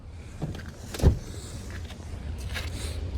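A 2005 MINI One's front power window motor whirs briefly, with a soft thump around the middle and a quiet mechanical hum throughout.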